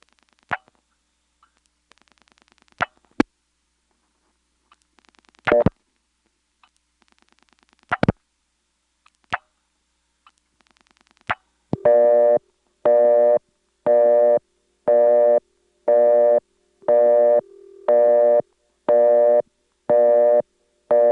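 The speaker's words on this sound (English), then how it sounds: "here is some 3595 number going to a busy signal" A 1977 senderized step-by-step (XY) telephone exchange in Lexington, SC: sparse clicks and clunks of switching, then a loud busy signal of evenly spaced repeating tone bursts, one interrupted briefly, with no voices.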